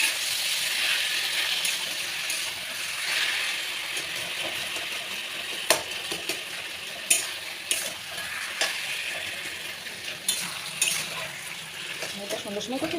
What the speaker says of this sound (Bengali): নাড়তে থাকবো যতক্ষণ না পর্যন্ত রঙটা পুরো চেঞ্জ হয়